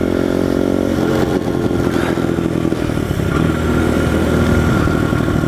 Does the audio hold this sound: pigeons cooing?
no